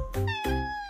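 A voice imitates a cat with two quick, bright meows in a row, close and clear, in a children's alphabet song.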